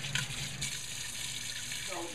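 Tap water runs steadily while a cooking pan is rinsed out in a home kitchen during chicken soup preparation, a continuous splashing rush at moderate level.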